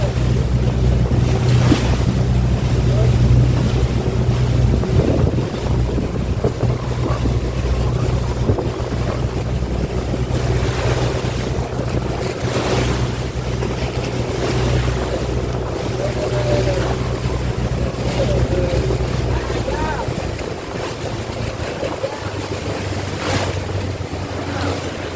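A boat crosses big ocean waves near the Small Lagoon at El Nido, Palawan, with a constant low engine drone, heavy wind buffeting the microphone and repeated slaps and splashes of water against the hull.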